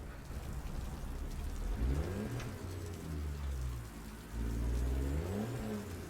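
Rain during a truck drive in American Truck Simulator, tested on a tire in wet conditions: a steady wash of rain noise with the truck engine droning and rising in pitch twice, and no talk.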